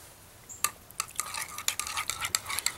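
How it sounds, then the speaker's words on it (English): Hot sauce with horseradish being stirred at an oyster festival, a quick run of clinking, scraping utensil strokes against a container, fairly faint and close, with no talking. "So I'm going to stir this up"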